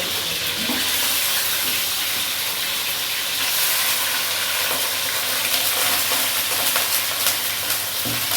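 Chicken pieces sizzle steadily in hot oil in a heated kadai, a dense continuous frying hiss with occasional stirring scrapes, close and even throughout.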